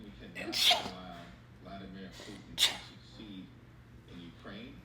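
A woman sneezes loudly once, then again about two seconds later, each a sharp burst over a television broadcast of someone speaking about politics.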